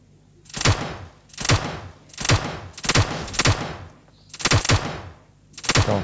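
Repeated bursts of automatic gunfire from a video game weapon set to burst mode, about seven sharp clusters of shots spaced roughly a second apart, loud and close with no talking.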